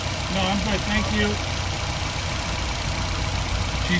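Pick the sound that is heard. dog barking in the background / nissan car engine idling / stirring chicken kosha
nissan car engine idling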